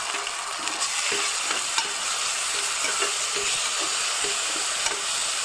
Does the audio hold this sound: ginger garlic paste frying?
yes